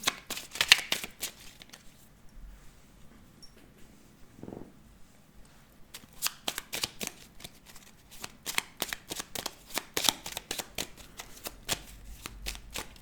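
Petit Lenormand cards being shuffled at a tarot-style reading table, giving bursts of crisp riffling and snapping card flicks, loud and close, with a short pause near the start before a long run of rapid shuffles.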